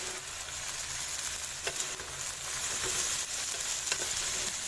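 Spaghetti frying in oil in a pan while being mixed: a continuous dense sizzle with scattered clicks and scrapes of stirring, fairly quiet and without any voices.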